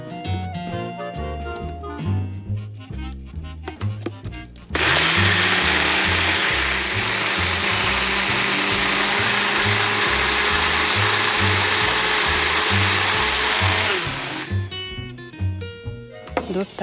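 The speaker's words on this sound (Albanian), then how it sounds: "Tani do i kalojmë në blender." Blender mixing a thick chili sauce mixture: a loud, steady motor whir starts abruptly after background music, runs for about nine seconds and then cuts off as the music continues.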